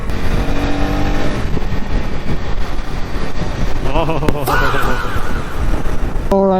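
KTM Duke 250 motorcycle ridden on the highway, its engine droning steadily under constant wind rush, with rising and falling tonal sweeps as it accelerates and shifts through gears.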